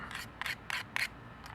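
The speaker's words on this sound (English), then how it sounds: "As if I were sitting here sharpening 50 pairs of scissors" A pair of scissors has its blade rubbed against a sharpener in four quick, close rasping strokes, with a fainter fifth stroke at the end and short pauses between them.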